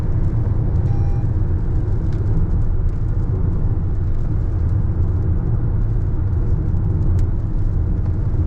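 Toyota RAV4 hybrid cruising on a New Zealand road on the way to Milford Sound, a steady low road and engine rumble with tyre noise running continuously, fairly close and without talk.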